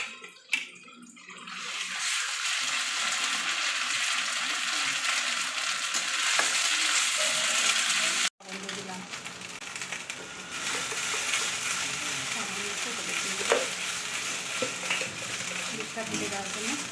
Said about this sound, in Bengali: তো দেখো আমি এই তেলের মধ্যে কালো জিরে ফোড়ন দিচ্ছি, আর এই পেঁয়াজটা দিয়ে দিচ্ছি